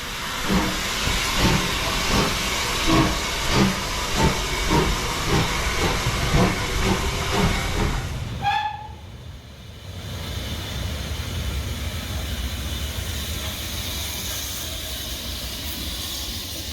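Bahamas, a steam locomotive at a railway steam gala, gives off a loud, continuous hiss of steam with rhythmic chuffing, then a brief high whistle-like tone before a steadier, quieter roar of escaping steam.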